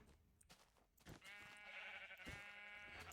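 A sheep bleats in Minecraft, one drawn-out, fairly loud bleat standing alone after a short quieter lead-in.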